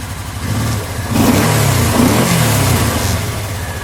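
A 2014 Kawasaki Teryx4 Camo side-by-side, fuel injected, is started with a key and then idles and revs, its mid-pitched engine loud and close with no talk over it.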